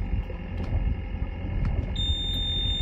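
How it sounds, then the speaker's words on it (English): A steady electronic alarm tone from the bow thruster of an Oyster 54 sailing yacht starts near the end and holds on, sounding over a low, constant background rumble aboard the boat. "You'll hear an alarm."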